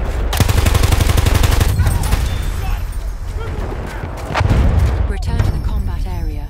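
Sustained machine gun fire from a Parabellum MG14/17 in Battlefield 1's Argonne Forest map, a loud, fast steady stream of shots with heavy booms and battlefield noise around it.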